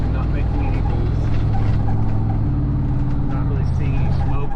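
A GMC Sierra pickup fitted with a newly installed turbo accelerates lightly from a stop, its engine giving a steady, close, low rumble with a faint whine above it and no break.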